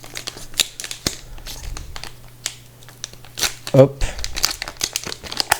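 A trading card booster pack wrapper is torn open with crinkling and crackling plastic, close and intermittent, while a person talks over it.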